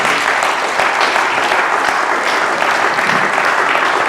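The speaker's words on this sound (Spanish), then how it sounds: "Denle un aplauso al Señor Jesús." Sustained applause from a church congregation during a Spanish-language sermon in Topeka, Kansas, a dense steady wash of many hands clapping without pause, loud and close.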